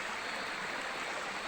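The Rangan river rushes in a steady, broad hiss of flowing water deep in customary forest, continuous and fairly close with no voices over it.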